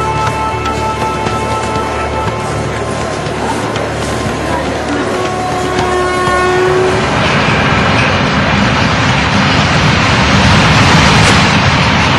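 An Indian commuter train sounds loudly up close: sustained horn-like tones and mechanical hum give way to a rising rumble and clatter of wheels on rails as it gets moving.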